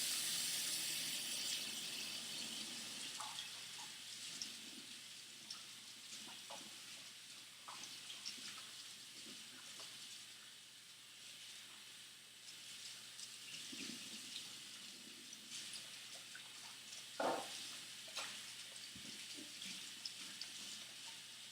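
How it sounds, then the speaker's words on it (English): Hands being washed under a running kitchen tap during cookie baking, a soft continuous stream of water with small splashes and a few brief clinks, no talking. "I'm gonna wash my hands."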